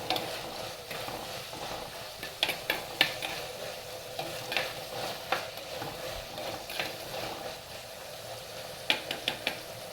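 Onion, tomato, green chili, garlic and ginger sauté in a pan under a soft sizzle, with sharp spatula scrapes and clacks breaking through at irregular intervals; no one speaks.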